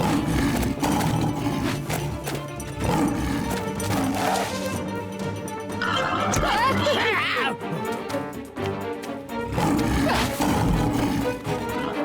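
The tiger Shere Khan roars loudly in a Hindi Jungle Book cartoon, repeated growling roars mixed with dramatic music and sound effects filling the whole stretch.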